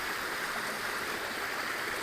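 A river flowing beside a house, steady broadband rushing water, close and continuous with no voices.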